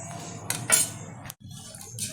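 A spoon stirs payesh, a milk rice pudding with raisins, in a pot, making a few close metallic clinks and scrapes against the pot over a low simmering background.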